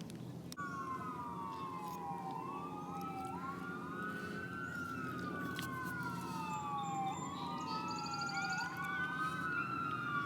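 Emergency sirens wail in rising and falling sweeps, somewhat distant, over a steady hum of city traffic.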